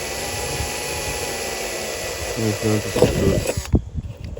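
A power drill fitted with an aluminum cutter bores holes through aluminum for a roof-mounted skeleton decoration. It gives a steady, close whirring whine with a few clunks toward the end, then stops abruptly.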